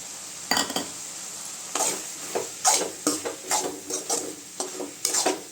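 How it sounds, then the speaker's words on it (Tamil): A spoon stirs cabbage kootu with grated coconut in a pan on a switched-off stove, giving a series of separate scraping, clinking strokes over a faint sizzle, close and fairly quiet. "தேங்காய் சேர்த்துட்டு அடுப்பை ஆஃப் பண்ணிடுங்க அந்த சூட்லேயே கொஞ்சம் நல்லா கிண்டி விடுங்க"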